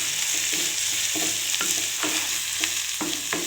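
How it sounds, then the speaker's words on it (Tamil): Onion sautéing with ginger garlic paste in a pan for mushroom sukka, a steady close sizzle broken by repeated soft scrapes of a spoon stirring about every half second. "இஞ்சி பூண்டு பேஸ்ட் ஆட் பண்ணிக்கலாம். இதையும் நல்லா வதக்கி விட்ருவோம்."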